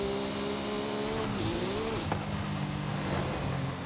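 A supercar in Forza Horizon 5 launching from a standstill and accelerating hard, its engine note rising and dipping through a gear change with a brief tire chirp, steady and close throughout, with no voices.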